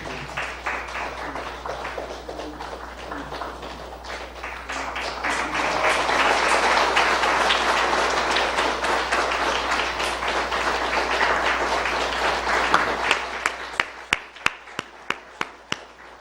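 A church congregation applauds during an evening worship service, dense clapping swelling to a loud sustained roar before thinning into a few scattered, separate claps at the end.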